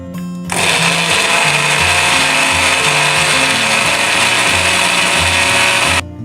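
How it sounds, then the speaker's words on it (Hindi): A blender whirs strawberries, milk and sugar in one continuous loud run of about five and a half seconds, starting and stopping abruptly, with no talk. "थोड़ा सा डाल के इसको मैं ब्लेंड कर लूँगी"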